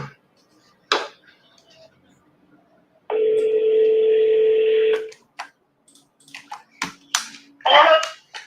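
Voicemail beep on a phone call: a single steady tone lasting about two seconds, set between short bursts of recorded and live talk.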